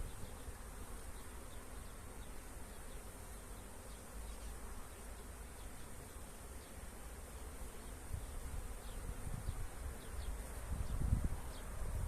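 A steady, dense hum of many honeybees buzzing close by at an open hive, continuous and even, with a low rumble swelling near the end.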